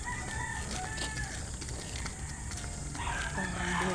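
Rooster crowing on a Philippine walk, a moderately clear crow rising over steady outdoor background noise near the end, with people chatting nearby.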